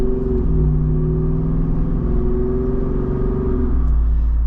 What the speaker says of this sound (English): And I just want to listen to the engine here